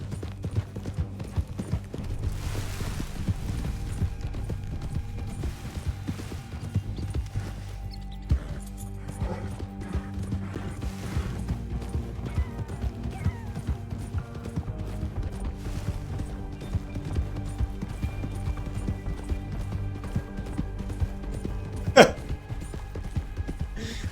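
Hoofbeats of a horse ridden in a RedM western roleplay game, a steady clip-clop rhythm running throughout with occasional mechanical clanks and a sharp hit near the end, with voices talking over it.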